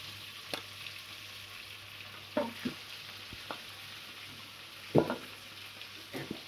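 Basmati rice dropped into hot ghee in a wok, a quiet steady sizzle broken by a few sharp scrapes and clatters of a spoon against the pan.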